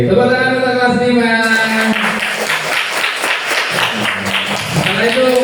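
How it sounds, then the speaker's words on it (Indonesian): Classroom of fifth-grade students clapping together in a sustained burst of applause, loud and close, with children's voices calling out at the start. "tepuk tangan untuk kelas 5"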